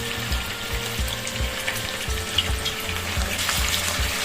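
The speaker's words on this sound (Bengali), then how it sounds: "এবার এই চিকেনগুলোকে ভেজে নেবো।" Chicken pieces fry in a spoonful each of ghee and oil for a Bengali chicken rezala, a steady close sizzle over a regular low thumping pulse, with no talking.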